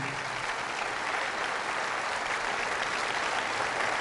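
A church congregation gives a hearty round of applause during a Spanish-language sermon, dense continuous clapping at an even level from start to finish with no talking.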